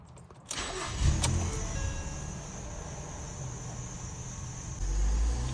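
A Ford Fusion engine with a stalling problem cranks and catches, then runs at a rough, uneven idle that sags and surges again near the end, heard close by with no talking.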